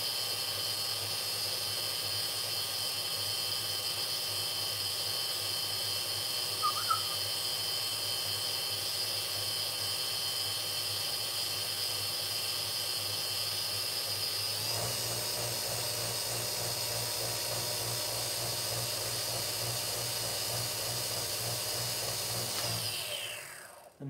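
A wood lathe spinning at higher speed while a pen is turned, giving a steady high-pitched whine with stacked tonal hum, a brief squeak partway through, a shift in pitch midway, then winding down at the end, with no talk.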